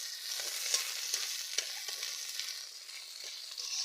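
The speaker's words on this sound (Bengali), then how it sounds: "পেঁয়াজ শুকনো লঙ্কা ভাজা ভাজা হয়ে গিয়েছে," Onion and dried red chillies frying in a pan for a kalmi greens dish, a steady close hiss and crackle with faint stirring taps throughout and no talking.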